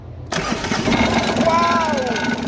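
A Mitsubishi 4D56 diesel engine, an old stock unit on a test setup, cranks briefly and fires into a steady running idle, loud and close, with people talking over it.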